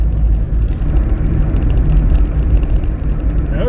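A 1980s Mk.2 Vauxhall Astra with a 1.3 single-cam engine hums with a loud, steady low drone of engine and road noise from inside the moving car.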